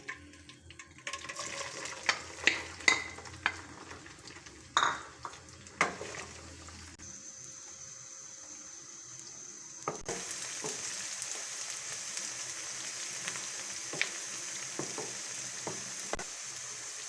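Chopped onions frying in half a cup of hot oil in a kadai, with a few sharp crackles as they go in, then a steady close sizzle with occasional stirring clinks, no talking.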